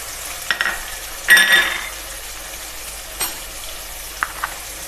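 Two large tomatoes and spices fry in a pan for an aloo anday dish, with a low steady sizzle broken by a few sharp clinks and scrapes of stirring, no voices.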